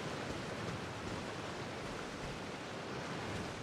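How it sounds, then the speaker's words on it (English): Steady broadband rushing of a waterfall in the video game Genshin Impact, a constant even roar at moderate distance, fairly quiet, with no voices over it. "Waterfall."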